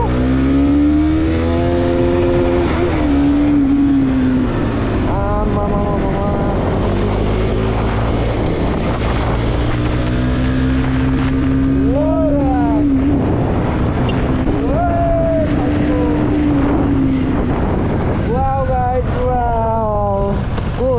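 A Bajaj NS 200 motorcycle rides off-road along a riverside at night, its engine droning steadily with rising and falling revs and wind buffeting the microphone throughout, loud and close.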